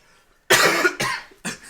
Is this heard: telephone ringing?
no